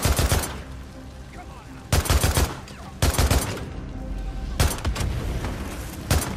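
Bursts of loud, close gunfire in the video game Days Gone, automatic volleys in several separate bursts, with game ambience between them.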